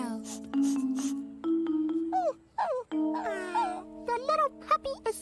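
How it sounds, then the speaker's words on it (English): A scared puppy whimpers in a children's film, with short high rising and falling whines over steady sustained musical tones and voices nearby. "The little puppy is scared."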